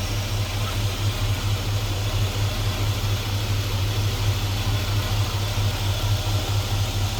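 An LS-swapped Chevrolet C10 squarebody truck engine idles nearby with a steady low throb and a constant droning hum, even and uninterrupted with no talk.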